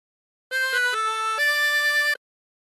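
A 24-hole tremolo harmonica plays a short phrase of God Rest Ye Merry Gentlemen, four or five sustained reedy notes stepping from one pitch to the next with a wavering shimmer, close and clear with no talk.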